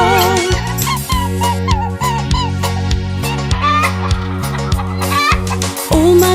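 Chicken clucks and a rooster crow for a farm-animal nursery rhyme, set into bright, steady children's song music that stays loud throughout.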